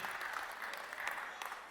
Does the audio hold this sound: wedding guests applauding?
yes